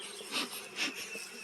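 Honey bees buzz around an open hive in winter, a close, steady insect drone with a couple of louder swells as individual bees pass near.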